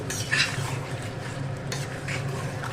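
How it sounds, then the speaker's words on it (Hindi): Chicken for biryani fries and is stirred in a pot, giving a soft continuous sizzle with a few light scrapes of the spoon, fairly faint and without speech. "बस मैं इसे अच्छे से भून लूँ"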